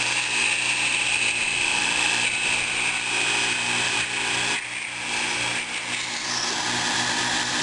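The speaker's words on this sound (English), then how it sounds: "I've got the mounted upside down on the cross slide, and just come into the workpiece and part it right off." Lathe parting off a garolite workpiece for a Maytag model 92 ignition part, with the tool mounted upside down on the cross slide. A loud, steady cutting whine holds without a break, with a thin high tone sliding across it.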